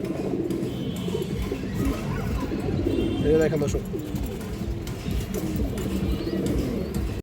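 Giribaz high-flyer pigeons coo in a steady, dense murmur close by, with someone talking over the cooing throughout.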